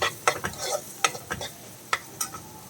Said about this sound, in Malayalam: അതും കൂടി ചേർത്ത് നമുക്കൊന്ന് വഴറ്റിയെടുക്കാം